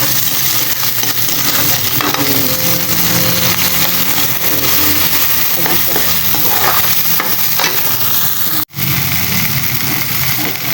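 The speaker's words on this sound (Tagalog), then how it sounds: "kamatis, gisahin muna natin yung bago natin sila" Tomatoes sautéing in a pan for sinigang sa hugas bigas, a loud, steady sizzle running throughout with scraping stirs of a utensil and a brief cut near the end.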